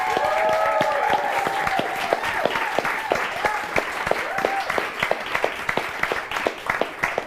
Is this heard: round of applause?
yes